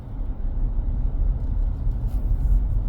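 A car rolls along a narrow lane near Chapman Lane and Pickwick Gap in Bridgetown, Barbados, with a steady low engine and tyre rumble throughout and no voices.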